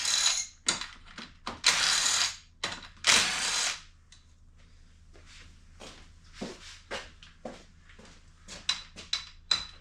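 Ratchet wrench unwinding loosened bolts on a Kawasaki KZ400 engine during head gasket work, heard as bursts of rapid clicking that stop and start across the clip, close and fairly loud with quieter ticks between.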